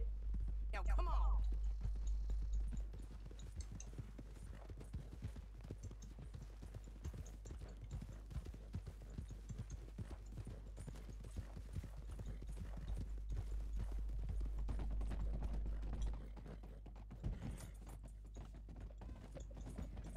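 Steady hoof clip-clop of trotting horses in Red Dead Redemption 2 continues throughout, with creaking gear and tack sounds and occasional voices underneath.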